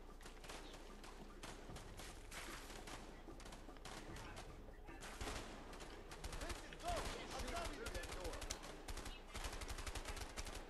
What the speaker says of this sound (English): Oh, I'm shooting this like a shotgun.